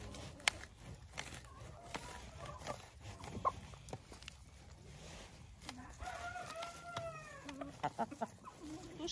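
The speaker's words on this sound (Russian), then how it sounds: "Петух стоит возле руки" A rooster clucks and crows softly close by among farm poultry, with faint scattered clucks and rustling under quiet background noise.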